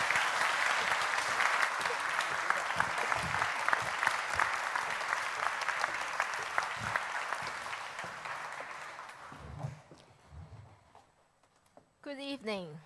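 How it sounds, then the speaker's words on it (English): An audience applauds as DENG Yaping is introduced at an event, sustained dense clapping that fades out near the end, followed by brief rustles and a voice starting to speak. "please give a round of applause for DENG"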